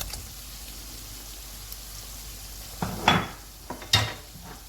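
Boiled eggs being stirred into fried masala in a pan for a dhaba-style egg curry: a soft, steady sizzle underneath, then two louder scraping stirs of a spoon against the pan near the end.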